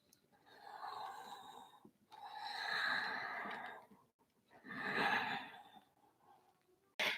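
Slow, audible breaths during gentle hatha yoga cat movements, three long airy sighing inhales and exhales in a calm rhythm, close and soft with quiet gaps between them.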